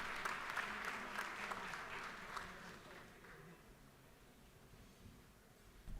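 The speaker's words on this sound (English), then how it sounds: "let's all just give them a warm round of applause and recognize their hard work." Scattered audience applause fills a legislative chamber during a session day, a fairly faint, distant patter of clapping that gradually tapers off.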